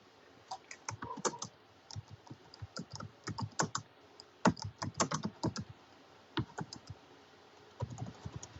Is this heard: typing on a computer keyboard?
yes